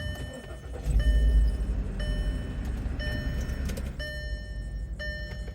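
A car engine starts with a low rumble and settles into a steady idle, while an electronic chime beeps once a second throughout.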